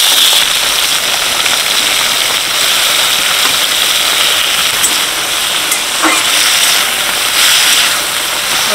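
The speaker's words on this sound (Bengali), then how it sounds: "চিংড়ি মাছ লেবু দিয়ে ম্যারিনেট করে রেখেছিলাম, এবার কষে নেব।" Shrimp marinated in lemon sautés in hot oil with whole cumin, giving a loud, steady crackling sizzle that stays close and continuous, with a couple of brief pops and scrapes.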